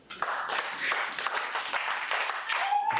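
Church congregation applauding during a pastor's sermon, a dense, steady patter of clapping hands throughout, moderately loud and roomy, with a voice briefly audible near the end.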